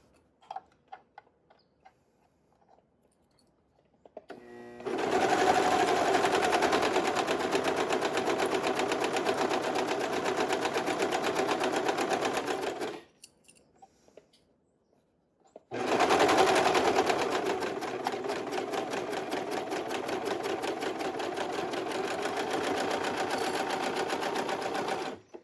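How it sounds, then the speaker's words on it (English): A sewing machine stitches the curved crotch seam of a pair of shorts in two long, steady runs of rapid close chatter, separated by a short pause, with no talk. "We're going to sew along this curved inner crotch line."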